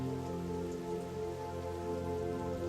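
Steady rain patters on a rural country road, Rustic Road 62 in Price County, Wisconsin, near Timms Hill; a dense, continuous hiss of drops on the surface with a constant low rumble, no voices.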